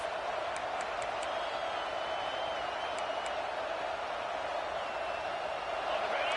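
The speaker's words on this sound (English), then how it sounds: "This crowd bringing the energy and noise early." A steady, dense roar of a large American football stadium crowd fills the space at constant loudness, a broad wash of many voices with faint whistles poking through.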